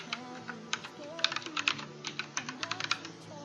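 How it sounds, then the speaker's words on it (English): Computer keyboard typing in a streaming setup, a run of irregular, close, fairly quiet key clicks over a low steady background hum, with no talk. "There's the keyboard sound is very present"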